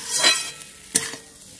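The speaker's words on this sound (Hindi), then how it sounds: "इधर मसाले ऐसा भूंज रहे हम लोग सारे सब्जी को" Spices and vegetables being roasted in a pan for khichdi, with a scrape of stirring and a soft sizzle at the start, then a sharp clink of utensil on pan near the middle, all close and without talk.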